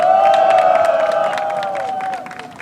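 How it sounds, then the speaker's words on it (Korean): A crowd at an outdoor press conference rally in Korea claps and cheers, loud and close at first over a steady droning tone, then thinning and fading toward the end. "주혁선 여사님께 다시 한번 큰 박수 부탁드리겠습니다."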